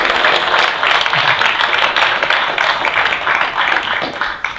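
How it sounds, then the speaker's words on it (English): An audience applauds puppeteers at a pawpet show, a dense, steady wash of clapping that holds at an even level for several seconds. "Give a round of applause for puppeteers"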